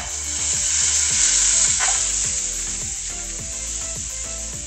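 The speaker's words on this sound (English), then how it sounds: "Put some butter in, the, in here. Let that cook. I'm gonna take the ground beef, put it on." Ground beef sizzles steadily in butter in a pan while cooking for tostadas, a close, continuous frying hiss with a faint low hum running underneath and no talking.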